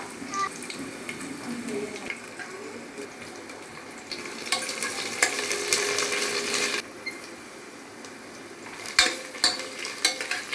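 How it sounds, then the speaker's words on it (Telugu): Chopped onions, green chillies and peppercorns sizzle in hot oil, a dense, steady frying hiss that swells midway and carries light stirring clinks toward the end. "నూనె వేడైన తర్వాత చిన్న కట్ చేసిన ఆనియన్స్, పచ్చిమిరపకాయలు ఒక 2-3, మిరియాలు ఒక 10-12,"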